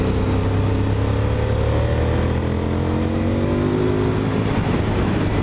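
A Honda VTR1000 SP1 V-twin sports motorcycle being opened up through the gears: a loud, steady engine roar with the pitch rising and falling as it shifts, heard close up with no voices.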